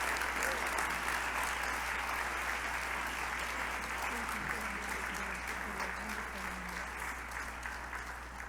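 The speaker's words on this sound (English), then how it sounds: "Let's give another round of applause to the ambassador." A large gala audience applauds steadily for the ambassador at a Books for Africa anniversary event, a dense sustained roar of clapping with a low hum beneath and a voice briefly heard over it.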